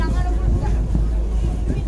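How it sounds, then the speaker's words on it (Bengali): Strong wind buffets the microphone on a riverside ghat in the Sundarbans, a steady low roaring rumble throughout with a faint voice partly underneath. "ভীষণ হাওয়া দিচ্ছে"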